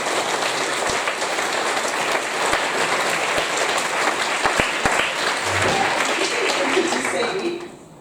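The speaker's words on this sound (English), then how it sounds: "So I think we need to give them a round of applause." An audience at a panel discussion on ecological conversion gives a round of applause, a steady rain-like patter of many hands for several seconds with a few sharper claps before fading out.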